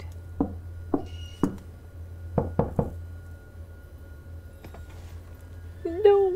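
Knocking in the horror video game Visage: several separate sharp knocks spaced over a few seconds, some in quick pairs, over a low steady hum, followed by a short vocal sound at the end.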